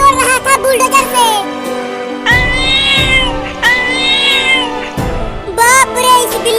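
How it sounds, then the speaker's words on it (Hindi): A large cartoon cat meows loudly in repeated long, wailing cries, each one drawn out, with a voice and other voices around them. "अरे अभी ये इतनी बड़ी बिल्ली कहाँ से आ गई?"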